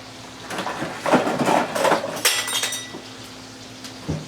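Several light scraping and clinking sounds of a metal dough cutter against a hard surface while making homemade bread, close by, in short bursts.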